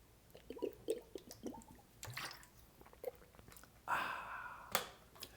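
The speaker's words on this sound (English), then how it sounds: "you're going to have to listen to me drink water" Someone sipping and swallowing water close to the mic, with several soft wet gulps and small mouth clicks spread through the stretch, then a louder breathy gulp and a sharp click near the end.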